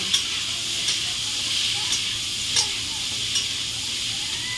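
Green chillies sizzle in hot oil with turmeric in a pan, a steady bright frying hiss broken by occasional stirring clinks, close and continuous with no talking.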